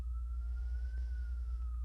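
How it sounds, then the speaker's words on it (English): An ambulance siren passes outside a house in Brooklyn, a faint, distant wail that rises and falls slowly over a steady low traffic rumble, with no talking. "there's an ambulance going by my house right now"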